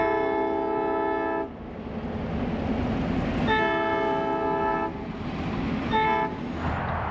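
Idaho Northern & Pacific Railroad locomotive running light along a road, its horn sounding three loud sustained blasts over a steady engine rumble.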